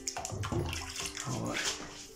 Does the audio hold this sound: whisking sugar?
no